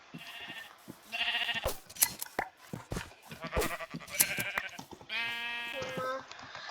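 Several cartoonish Minecraft sheep bleats ring out in short bursts with quiet gaps, with some game sound effects and clicks mixed in.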